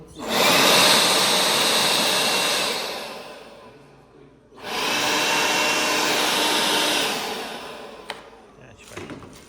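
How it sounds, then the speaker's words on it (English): A battery leaf blower whooshes loudly in two long bursts, spooling down to a pause between them, with a few faint knocks at the end. "We tested out these batteries with a leaf blower."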